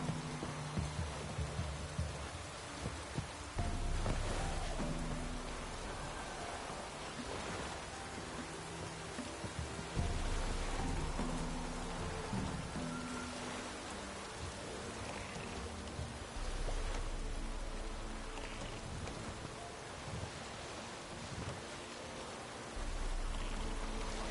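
Steady rain falling in The Witcher 3, a continuous broadband hiss with soft drops pattering on surfaces, running alone without any voices for the whole stretch.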